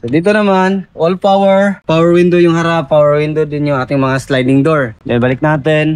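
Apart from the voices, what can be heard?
No everyday noises stand out.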